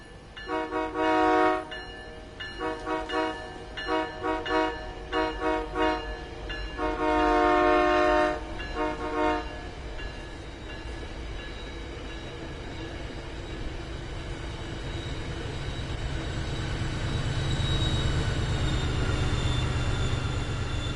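In a train simulator game, train horn blasts sound in short bursts at first, then a high-speed diesel train's heavy engine rumble builds steadily and grows louder toward the end.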